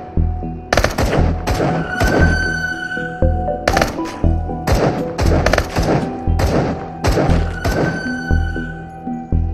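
Gunfire in the VR shooter Into The Radius, sounding as loud close bursts of rapid shots separated by brief pauses, with heavy thumping impacts.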